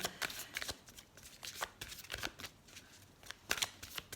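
A deck of cards shuffled for a card reading, close and fairly soft, with irregular bursts of papery riffling over faint background hiss and no talking.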